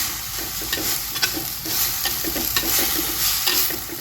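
Ponnanganni spinach thoran being stirred in a pan, with a steady sizzle of frying under repeated scraping strokes of the spoon against the pan, close and fairly even throughout.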